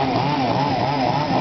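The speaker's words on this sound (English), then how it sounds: "Chainsaw juggle" A chainsaw being juggled runs loud and close, its engine buzzing steadily with a slight rhythmic wobble in pitch, no voices over it.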